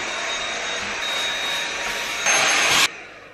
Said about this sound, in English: I think the inside of this needs a little hoover.